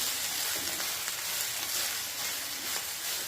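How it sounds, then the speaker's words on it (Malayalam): Brinjal curry with turmeric and salt hisses and sizzles steadily in a pan while being stirred, a dense, continuous close frying sound with faint scraping and no talk. "ഇനി നമുക്ക് നന്നായിട്ടൊന്ന് ഇളക്കി കൊടുക്കാം"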